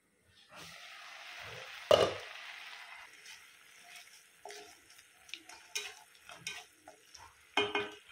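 Bottle gourd halwa being stirred in a pan: soft scraping and light clinks of a spoon against the pan, quiet and intermittent, with a faint sizzle and one sharper knock near the start.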